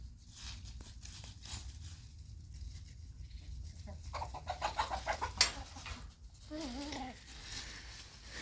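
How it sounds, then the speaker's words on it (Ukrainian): Free-ranging hens forage outdoors among leaves on a sunny day, giving soft scattered clucks and a few brief calls at moderate distance over quiet background rustle. "Кури вийшли сюди як ви можете побачити"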